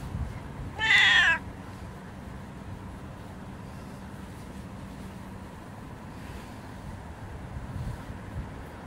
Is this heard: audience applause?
no